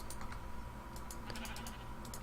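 Sheep in the Minecraft video game bleat faintly under a steady background hum, while keyboard clicks tap in short bursts nearby.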